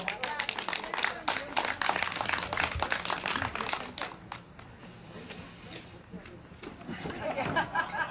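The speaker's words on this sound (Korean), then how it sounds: "자, 다시 한 번 더 우리 이수민 누님께 큰 박수 부탁드리겠습니다." Scattered audience clapping at a candlelight rally gathering, fairly faint and uneven, fading midway and then picking up again, with crowd chatter and voices mixed in.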